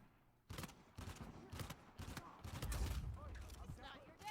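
Rapid bursts of gunfire from a weapon in an Uncharted 4 multiplayer match crackle in quick succession at moderate loudness, with a denser rumble of shots near the middle and faint game sounds between bursts.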